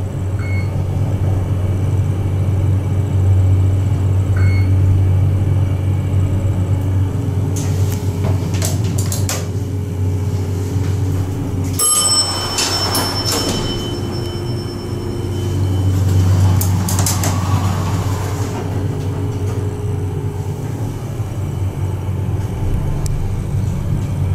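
Fujitec hydraulic elevators in a parking garage at the Grand Hyatt in Washington, DC, with a steady low machine hum, doors sliding and clunking midway, and a faint chime over the drone.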